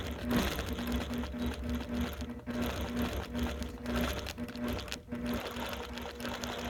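Sewing machine stitching fabric, a steady, close, rapid mechanical hum with a constant whirring tone and no pauses.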